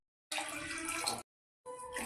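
Tap water runs into a bowl of twice-washed rice for soaking before biryani, a steady rushing pour for about a second, a short pause, then a second burst; no talking.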